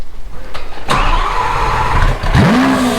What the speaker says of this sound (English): he about to give y'all a cold start up